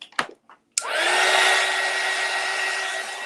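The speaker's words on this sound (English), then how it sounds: "air gun and blow off all our little sandy things there because we don't want those to get stuck" An air gun blasts a sustained, steady hiss of compressed air to clear sand off a handmade Christmas gift tag, starting abruptly after a few brief clicks and handling noises, close and loud throughout.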